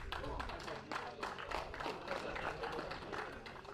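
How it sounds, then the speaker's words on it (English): Audience applause for a dance crew at a competition heat, a continuous wash of clapping from a crowd, steady and moderately distant, with a voice heard over it. "please applause for the crew D"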